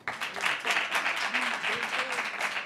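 A smaller group within a university lecture audience claps, producing a steady, fairly quiet patter with faint voices mixed in underneath.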